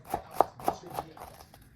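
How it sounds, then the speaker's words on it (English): A knife coarsely chops onions in four or five crisp, evenly spaced strikes on a board, close and clear, then fades to quiet. "Coarsely chop 400 grams of onions"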